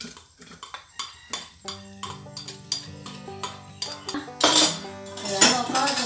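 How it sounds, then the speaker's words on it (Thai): A spoon clinks and scrapes against a bowl while Thai vegetarian mango salad dressing with palm sugar, bird's eye chillies and shallots is stirred, giving a steady rhythm of close metallic taps that grow louder toward the end. "แล้วเราก็จะมาคนนะคะคนน้ำตาลนี่ละลายเลยนะคะ"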